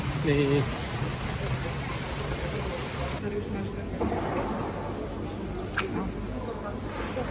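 Steady patter of rain on a surface fills the background, with a voice speaking briefly over it at the start.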